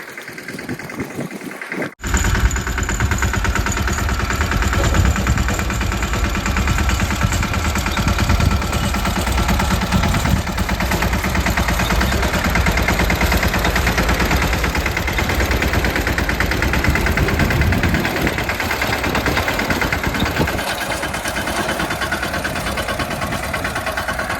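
A tractor engine running steadily and loud at close range after a brief quiet start, with a constant rumbling drone and no talking heard.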